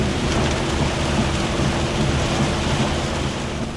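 Heavy midday downpour over Metro Manila streets, a dense steady roar of rain hitting surfaces, loud and continuous with no voices.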